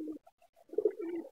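Domestic pigeons coo close by in a short burst: a brief low note, a pause with faint murmurs, then a longer warbling coo. No voices are present.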